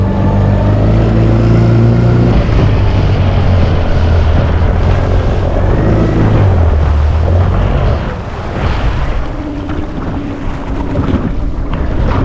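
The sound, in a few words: motorboat riding out on the Breede River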